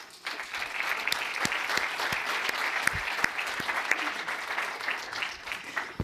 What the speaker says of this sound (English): Please give a warm applause to Carla Couto.